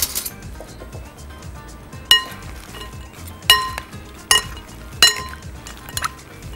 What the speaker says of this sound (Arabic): اقلب كل ده على بعضه.